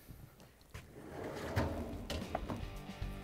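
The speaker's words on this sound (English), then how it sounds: "And now we can close the door." A refrigerator door swings shut after an evaporator motor repair on a Whirlpool, KitchenAid or Maytag fridge, with a soft thud partway through, followed by a few light knocks and rattles in a quiet room.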